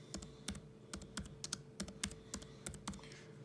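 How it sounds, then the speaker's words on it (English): Keys clatter on a computer keyboard as a network command is entered on a router during a Cisco HSRP configuration; about a dozen quick, close clicks in short irregular bursts, with no talking. "Command is typed on R1"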